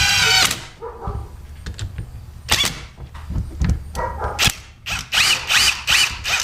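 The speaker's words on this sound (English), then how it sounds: "I just use my impact to run them down just snug" Impact wrench running down bolts on a Dixie Chopper pump, with repeated short rattling bursts separated by clunks and handling noises, ending in several quick hammering pulses close by.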